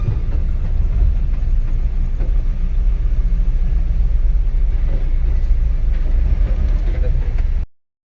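A truck loaded with Malda mangoes drives along a highway at night, making a steady low road rumble and engine drone, with a voice speaking over it before the sound cuts off abruptly.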